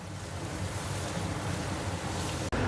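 Chicken pieces and sliced onions fry together in a pan, producing a dense, even hiss that stays loud and close throughout, broken by one abrupt dropout near the end.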